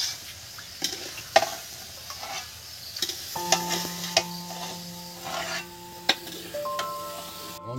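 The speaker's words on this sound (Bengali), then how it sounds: "আর মা বন্ধুরা 2 হাতে নাড়ছে একদম খুন্তি।" A spatula stirs cauliflower khichuri in a pot over low heat, giving soft scraping and rubbing strokes with a few sharper knocks against the pot, under a faint simmering sizzle.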